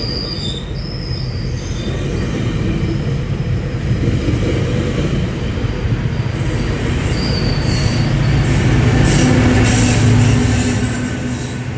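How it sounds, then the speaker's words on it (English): A passenger train making all stops towards Aldershot passes close by, its wheels squealing loudly on the rails amid a continuous rumble and clatter that swells toward the end. "there's the train going, making all stops"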